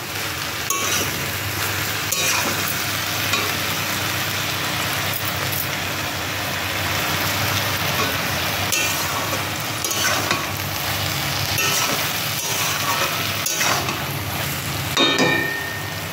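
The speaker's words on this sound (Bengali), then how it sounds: "আর সামান্য একটুখানি মরিচ গুঁড়া কালারের জন্য। এটা দিয়ে এবার নাড়াচাড়া করে নিলাম।" Taro and greens fry in a pan with chili powder, a continuous close sizzle punctuated by sharp stirring scrapes and knocks of a utensil against the pan.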